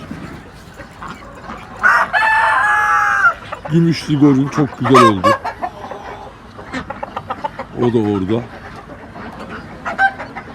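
A Brown Leghorn rooster crows loudly and close, with clucking fowl and someone talking nearby.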